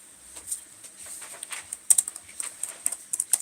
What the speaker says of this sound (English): That's why you see me typing.